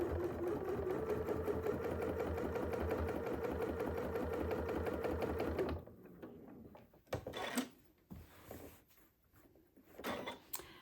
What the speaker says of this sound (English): we're going to do our stitch in the ditch or stitch near the ditch